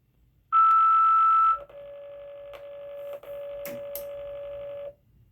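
A siren control board plays its cancel tone: a loud steady high beep, then a lower sustained tone lasting about three seconds, broken by a few brief clicks, sounding alone in a quiet room.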